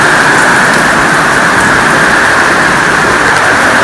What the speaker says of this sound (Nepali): र अब यहाँ पानी पर्नु थाल्यो